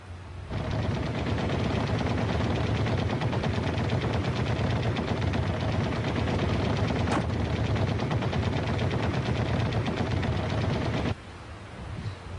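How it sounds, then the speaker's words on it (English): A fighter aircraft's 12.7mm machine guns fire one long, dense, unbroken burst, loud and harsh for about eleven seconds, then drop away abruptly to a quieter rumble, with no voices. "The machine guns were easy to aim because tracer ammunition allowed the pilot to adjust to the target"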